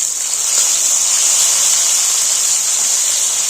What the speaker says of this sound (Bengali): তেল গরম হয়ে গেছে, ফার্স্ট আমি এই যে চিংড়ি মাছগুলো ভেজে নেব